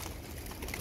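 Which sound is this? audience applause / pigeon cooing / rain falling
pigeon cooing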